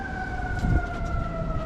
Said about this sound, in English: the sirens are going crazy